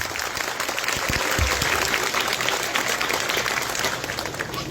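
Broadband crowd applause fills the room steadily throughout, with scattered claps blending into a dense wash at a Mother's Day celebration in a Q'eqchi' community.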